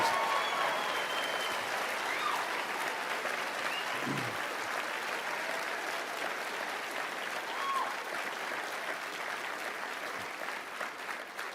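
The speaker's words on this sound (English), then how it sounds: "Give yourselves a round of applause." A motivational-speech audience applauding themselves, steady dense clapping from a large crowd heard somewhat distant and even, with faint cheers mixed in.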